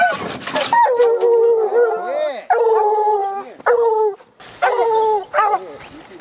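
Hunting dogs on a mountain lion hunt in snowy Arizona woods give loud, repeated baying howls in drawn-out wavering bursts, close by, with brief pauses between calls.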